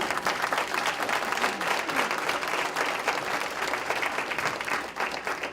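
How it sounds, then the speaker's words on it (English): Audience applause for the district mayor at a public safety forum, a steady, dense wash of many hands clapping that holds at an even level for the whole stretch with no talk over it. "Please give him a round of applause."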